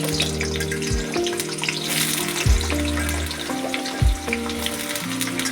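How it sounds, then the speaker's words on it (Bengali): Potato pieces hit hot oil in a kadai and fry with a steady, close sizzle over background music, with a few brief louder splashes as pieces go in. "তেলটা গরম হয়ে গেছে, এবার আমি আলুগুলো এক করে ছেড়ে দেবো।"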